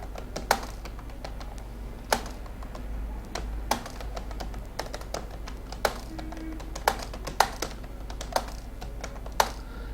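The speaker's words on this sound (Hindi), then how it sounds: "जुमला टाइप करते वक्त आप कीबोर्ड को नहीं देखेंगे।" Someone types a sentence on a computer keyboard, with irregular crisp key taps and a few sharper strokes over a steady low hum, close and alone, no talk.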